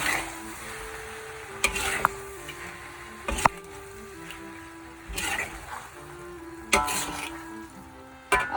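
Vegan mee goreng noodles being stirred with thin soy sauce in a pan, a low sizzle with intermittent bursts of scraping and clattering as the utensil turns them, moderately quiet.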